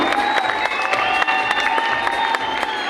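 An audience in a conference hall applauds to welcome a chief guest at a healthy-living anniversary event, loud continuous clapping with crowd murmur and tonal music running underneath.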